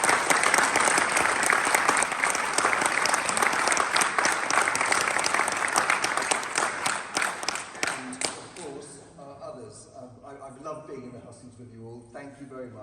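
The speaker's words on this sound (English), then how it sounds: "I'd like you all to give him a round of applause, please." A crowd at a general election night count breaks into dense, sustained applause that fills the room, then thins into scattered claps and fades as a voice resumes speaking.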